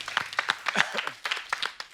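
Studio audience on a comedy talk show with Ravi Kishan and Manoj Tiwari breaking into applause, sharp close claps in a short uneven burst, with voices mixed in.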